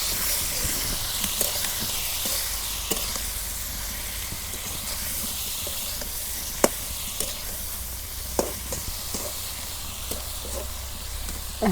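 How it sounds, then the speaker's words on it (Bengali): Turmeric and chili powder sizzle and hiss in a hot frying pan for a rohu fish curry, a steady bright frying noise broken by scattered scrapes and taps as a spoon stirs the mix. "হলুদ, মরিচের গুঁড়া, এখন ভালো করে নাড়াচাড়া করে ঢেকে দিই।"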